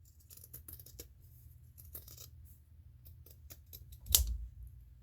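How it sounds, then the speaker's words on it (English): Scissors snipping through fabric at the edges and corners of a stitched piece, a run of quiet, close, crisp clicks with one louder snap near the end. "I cut my edges, my corners, but I didn't cut in the middle."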